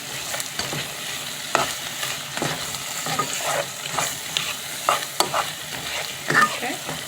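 Vegetables for a vegan Mediterranean spaghetti sizzle in a pan and are stirred, with a continuous close frying hiss broken by repeated scraping strokes of a utensil against the pan.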